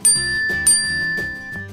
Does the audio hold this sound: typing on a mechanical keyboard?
no